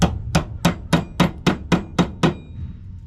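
A hammer strikes a copper bracelet resting on the back of a metal vise, nine sharp, evenly spaced metallic blows in quick succession, close and loud, with no talking.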